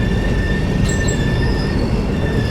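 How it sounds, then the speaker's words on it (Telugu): The new Humsafar weekly express pulls into platform 2 at Kottavalasa Junction, loud and close, its wheels squealing in steady high tones over a constant rumble, with no talking. "కొత్త వలస జంక్షన్కి మన ట్రైన్ ప్లాట్ఫామ్ 2కి అయితే వచ్చింది."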